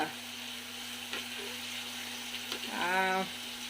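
Onions sautéing in a small home kitchen pan, a soft continuous sizzle close by, with a low steady hum underneath and a brief rising tonal squeak near the end.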